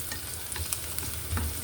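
Garlic fries in a hot pan with a steady, close sizzle and crackle, with faint stirring scrapes mixed in throughout.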